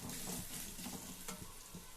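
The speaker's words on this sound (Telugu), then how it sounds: "1 స్పూన్ ఆఫ్ ఆయిల్ పోసుకోవాలి. ఆయిల్లో ఆలు వేసేసుకోవాలి, మిక్స్ చేసుకోవాలి." Potatoes frying in a spoonful of oil while being mixed in the pan, a soft continuous sizzle broken by scraping stirs and light clinks, fairly quiet and close.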